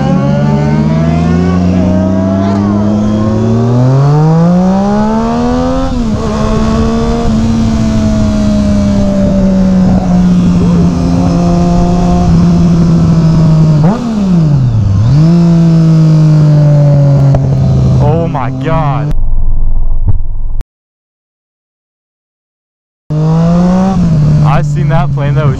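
A Triumph Street Triple motorcycle fitted with a Two Brothers S1R Black Series exhaust revs hard up close, its engine pitch climbing, dropping and surging repeatedly before a brief cut to silence and another loud burst.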